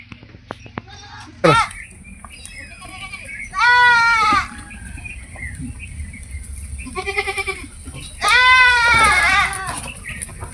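A goat bleats loudly and close by in several wavering calls spread across the scene, with quieter rustling and background noise in between.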